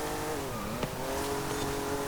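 A 1960s car's engine in Forza Horizon 5 holds a steady, moderately loud drone while driving, with a brief sharp tick near the middle and no talk.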